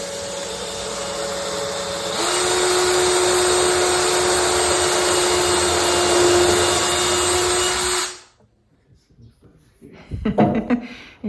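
A power tool runs steadily for about eight seconds with a rising whine as it drives screws into a wall-mounted shelf, then cuts off abruptly, leaving brief clattering handling noises.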